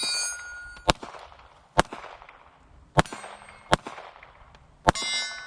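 Five sharp gunshots from a Sig P365 XL pistol fitted with an Icarus Precision ACE EVO grip module, fired at a slow, uneven pace, each a loud close crack with a ringing decay.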